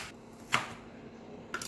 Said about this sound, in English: Go ahead and cut your onion.